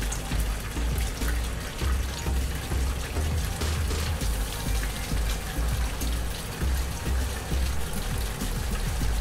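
Liquid from a bromobenzene nitration is poured into a Buchner funnel in a chemistry lab, a steady, continuous splashing and trickling that runs throughout with no pauses.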